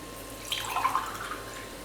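Coconut milk is poured into a cooking pot while making chickpea rice (kondakadalai sadam). It comes through as a brief, faint liquid trickle and splash near the middle, with quiet room noise around it.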